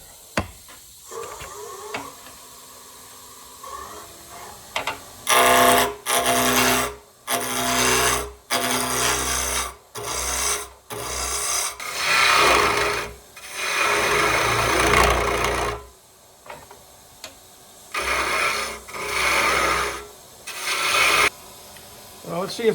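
Rasping file shaping and rounding the wooden bottom of a handmade spinning top, heard as a quiet start and then repeated loud bursts of stroking that run close up for most of the stretch, with short pauses between strokes.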